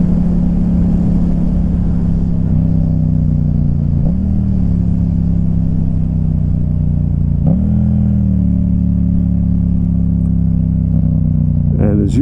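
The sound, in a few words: Yamaha MT-07 motorcycle engine revving during rev matching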